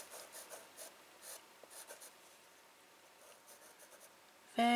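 A pencil scratches and rubs across paper in short, quiet strokes with small pauses, close and soft, ending in a louder bump.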